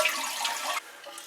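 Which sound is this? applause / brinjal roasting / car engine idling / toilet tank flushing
toilet tank flushing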